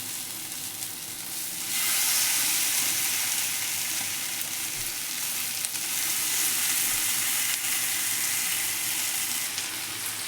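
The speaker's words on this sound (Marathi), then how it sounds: "मी तव्यावरतीच भाजणार आहे." Paneer sizzles and crackles steadily on a hot griddle, a loud continuous frying hiss with no talking.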